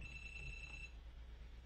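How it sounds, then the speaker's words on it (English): A phone ringing faintly in the background, a thin steady high-pitched electronic tone lasting under a second over low room hum, then fading away. "There goes my phone again."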